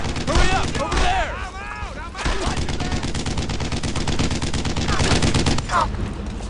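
Dense combat gunfire from the World War II shooter Brothers in Arms: Earned in Blood, with near and distant rifle and machine-gun bursts rattling continuously, sharp shots cracking over a steady roar, while soldiers shout in brief voices.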